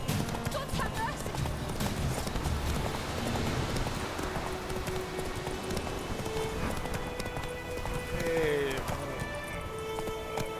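Rhythmic galloping hoofbeats of a horse in The Witcher 3 pound continuously and fairly close, mixed with rustling game ambience and a few faint tonal sounds.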